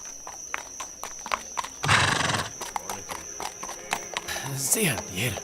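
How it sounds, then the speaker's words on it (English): A horse neighs in a fantasy adventure setting, with a loud burst and a descending whinny near the end, over clip-clopping hooves and a steady background tone. "There, this damnable horse."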